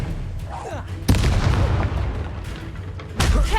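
A spell cast in the video game Hogwarts Legacy sounds as a sudden booming magical blast at about one second, with a second blast near the end, set over steady game ambience and battle noise.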